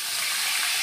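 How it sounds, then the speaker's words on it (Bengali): Cumin, chilli and bay leaf sizzle in hot oil as a tempering, a brief, dense, continuous hiss heard close with no talking. "লঙ্কা আর তেজপাতা ফোড়ন দিয়ে দিলাম।"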